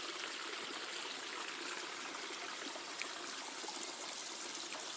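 A small waterfall in Pachgram, Badarpur, Assam, one that runs all year, pours in a steady, dense rush of water, close and continuous with no voices.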